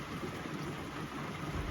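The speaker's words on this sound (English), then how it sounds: "Hopefully it'll stop raining." Rain falls steadily around a horse barn, a dense even hiss with no breaks and no voices.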